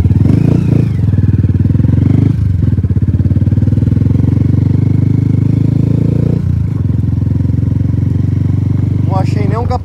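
A Honda CB 190 R motorcycle engine idles and runs steadily up close with a loud, dense mechanical rumble, briefly dipping twice, with a short rising rev near the end.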